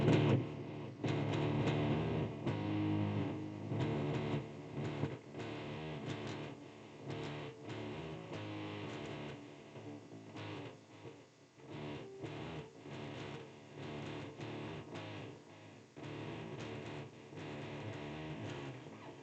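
A distorted electric guitar plays a riff, heavy low power-chord hits and slides in a choppy, rhythmic pattern, close and fairly loud with no talking over it.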